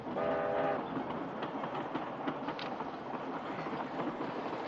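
Train running on rails, a steady loud rumble and clatter of wheels with a brief horn-like tone at the start, continuous throughout.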